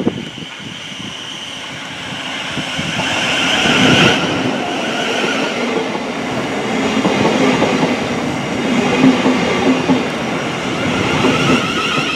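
A train pulls into a station, its loud rumbling engine and rolling wheels growing nearer, with clattering carriages and some metallic screeching as it slows, continuous and with no talk.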